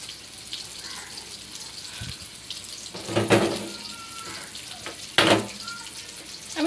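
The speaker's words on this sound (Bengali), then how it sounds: "আমি শীতলটা ভালো করে পরিষ্কার করে ধুয়ে নিয়েছি।" Sidol, a fermented dried fish, being rinsed in water for a home-style North Bengal recipe: a steady trickle of running water with splashing bursts near the middle and again toward the end, close by with no talk.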